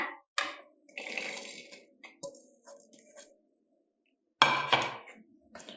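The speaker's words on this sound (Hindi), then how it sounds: "अब इसको मिर्चों को हम फ्राई पैन में डालेंगे।" Chopped green chillies are tipped into a frying pan with scattered clinks and rattles of metal, loud and close, separated by quiet pauses.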